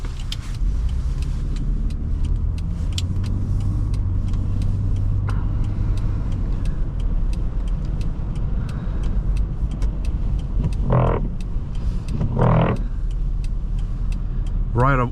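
Steady low engine and road drone inside a 1997 Volvo 960 2.9 on a cold, rainy Pennsylvania drive, continuous throughout with a couple of brief higher sounds near the end.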